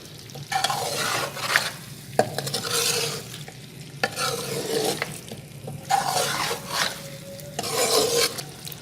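Beef karahi being stir-fried in oil, with loud rhythmic bursts of scraping and stirring over a continuous sizzle, and occasional metallic clinks of a spoon against the wok.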